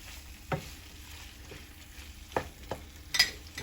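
Chicken gizzards go into a frying pan for a spicy gizzard dish. A soft, low sizzle sits under a few sharp scrapes and clatters as they are tipped in and stirred.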